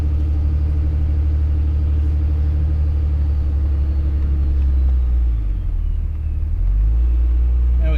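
A Ram 2500 pickup with a 5.9 Cummins diesel, towing a heavy load, pulls out of a yard and up a slight hill, its deep engine rumble steady and loud throughout with a slight dip near the end.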